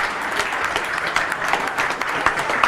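A crowd of news staff claps loudly in a TV newsroom, steady and dense with distinct sharp claps throughout, close and continuous with no voices over it.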